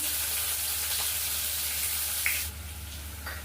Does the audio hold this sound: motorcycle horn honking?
no